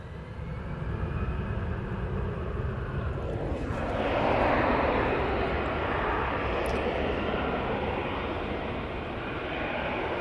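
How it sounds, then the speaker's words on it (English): An easyJet airliner roars down the runway on its takeoff roll at Manchester Airport, a broad, steady jet rumble that swells in the middle and holds loud to the end, with no voices. "Easyjet now on the roll."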